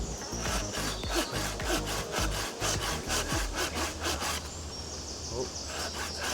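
A Bacho Laplander folding saw cuts through wood with about a dozen quick, rhythmic rasping strokes, close and loud, before the sawing trails off into a softer steady rasp.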